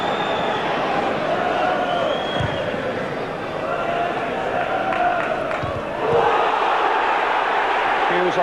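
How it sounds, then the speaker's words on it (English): A football stadium crowd at a Leeds versus United match in the 1990–91 season jeers and roars in a broad, sustained wall of noise that swells louder toward the end. "Hughes on White, the crowd weren't happy with that."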